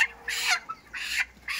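Broiler chickens, birds of about 1300 grams, cluck inside a poultry shed in three close, moderately loud bursts separated by brief pauses, with no talk over them.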